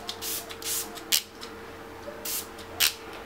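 Smashbox primer water misted onto a face in a few short spray bursts, separated by pauses and close to the listener, with no talking.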